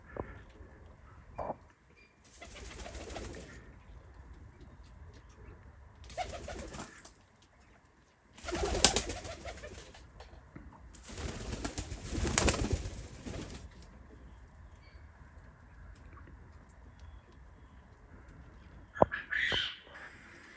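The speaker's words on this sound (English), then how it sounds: "We have some beautiful pigeons." Pigeons in a backyard aviary shared with quail, with soft coos under a quiet ambience, broken by several loud bursts of wing flapping and squawks.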